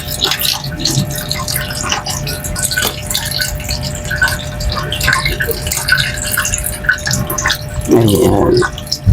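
Tap water runs and splashes steadily into a container to soak frozen guava leaves, with a fuller gush near the end. The sound is close and continuous, with some faint background voice.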